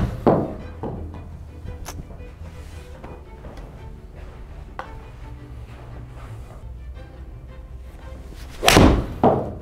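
A Mizuno Pro 225 golf iron strikes a ball indoors, giving a sharp, solid click-thump near the start and another louder strike near the end, with quieter room noise between.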